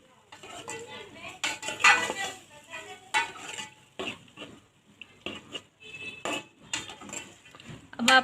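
Half a kilo of chicken is mixed in a cooking pot with cauliflower for gobhi gosht, as a metal spoon clanks and scrapes against the pot in uneven bursts with brief pauses between.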